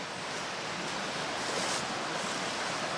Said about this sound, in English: You hear the river running here.